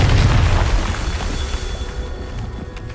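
A Confringo fire spell explodes in the Hogwarts Legacy video game, a loud, close, deep boom that rumbles out and slowly fades over a few seconds.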